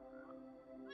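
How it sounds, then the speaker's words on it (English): A frog croaks in a Minecraft game world: a soft, tonal, buzzing call held for about a second, faint and unaccompanied by any voice. "I like hearing those frogs chirping"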